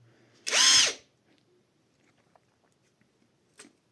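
A Catpower 4226 cordless impact wrench spins freely in one short, loud, high-revving whine that lasts about half a second, followed by quiet handling clicks and a faint tap.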